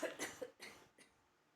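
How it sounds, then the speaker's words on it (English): A single person clears their throat in a few rough, close bursts that trail off into quiet, with no talking. "I had to clear my throat."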